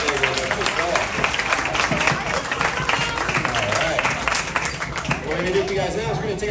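A crowd at an alligator rescue show in Everglades Holiday Park applauds after a live alligator demonstration, loud steady clapping throughout with chatter mixed in.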